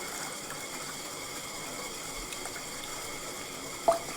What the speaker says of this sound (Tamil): தண்ணியே ஃபுல்லாக ஊற்றணும்.